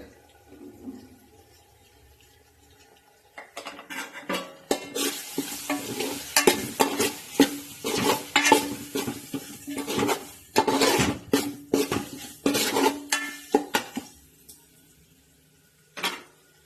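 Chicken, tomato and spice powders for Chettinad pepper chicken stirred in a pan, with repeated loud scraping and clattering strokes of a spoon against metal over a steady sizzle; near, no talk, ending after a pause with one last scrape.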